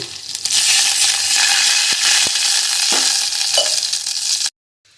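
Water poured into a hot oil tempering with coriander leaves gives a loud, fierce sizzle that crackles steadily for several seconds, then cuts off abruptly.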